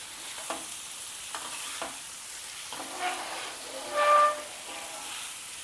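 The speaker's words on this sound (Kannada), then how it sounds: "ಹೀರೆಕಾಯಿನ ಸೇರಿಸ್ಕೊಳತ್ತಾನೆ ಬೇಳೆ ಮತ್ತು ಹೀರೆಕಾಯಿನ ಚೆನ್ನಾಗೆ ಮಿಕ್ಸ್ ಮಾಡ್ಕೋಬೇಕು" Ridge gourd and soaked toor dal being stir-fried together in a pan for palya, a soft steady sizzle with scattered spoon scrapes and stirring clicks, close and moderately quiet with no talking.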